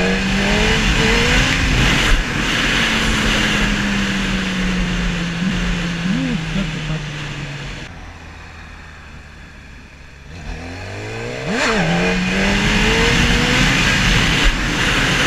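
A motorcycle engine revving up and dropping back as the throttle is opened during wheelie practice, loud and close with a rising whine, a quieter lull, then another sharp rev; someone talks over it.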